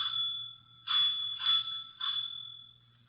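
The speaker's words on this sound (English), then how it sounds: "That is also why you had better ring the doorbell." A doorbell rings in a bright, sustained electronic chime, three distinct strikes each ringing out over a steady low hum, heard alone and fairly quiet.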